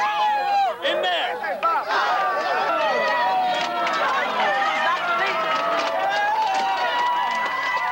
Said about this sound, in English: The crowd milled around outside.